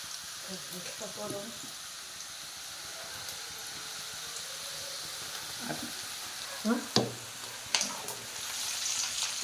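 Onion pakoda frying in hot oil gives a steady soft sizzle throughout. A few louder crackles and pops come near the end, with faint talk in the background.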